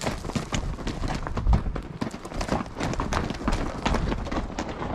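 Horse hooves clip-clop on a desert trail during a fall ride, a steady, close rhythm of hoofbeats continuing throughout.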